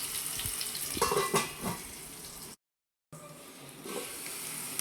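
Onions frying in hot oil for a chicken curry sizzle loudly and close, with a few stirring scrapes, broken by a brief silent gap before the sizzling resumes.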